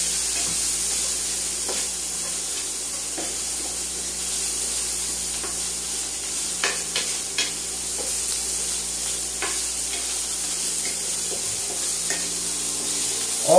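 Scallops sizzle and brown in an oiled pan, a steady close frying hiss with occasional crackles and stirring sounds throughout, no voices.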